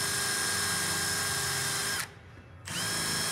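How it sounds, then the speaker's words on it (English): Power drill with a quarter-inch bit boring into a rivet on a van trailer composite panel, a steady close whine that briefly drops off for about half a second before resuming. "Now grab your quarter inch drill bit and drill into the rivet about halfway."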